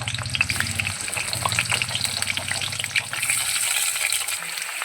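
Chopped ash gourd fries in hot mustard oil in a wok, crackling and sizzling loudly and continuously with bursts of stirring.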